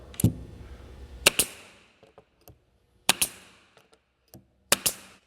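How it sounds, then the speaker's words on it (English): A staple gun fires staples into cabinet panels during assembly, with several loud, close, sharp snaps, some in quick pairs, separated by quiet pauses and light handling knocks. "take your staple gun again, line it up with that mark"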